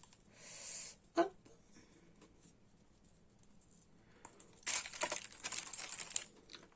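Scissors cut through craft foam in a few close, faint crinkly snips and a longer stretch of scraping cuts, in a quiet room with no talking.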